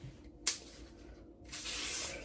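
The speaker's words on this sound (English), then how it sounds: "Why is it spraying like this?" Oil spray from an aerosol can applied to hair at a concert get-ready session, a short hiss burst followed by a longer sustained spray.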